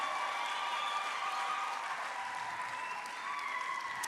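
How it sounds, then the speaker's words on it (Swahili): A church congregation applauds during a sermon, a fairly soft, sustained wash of clapping heard from some distance with a faint steady tone running beneath it. "Hayo makofi yatosha, wapigieni wamama wa TTCL."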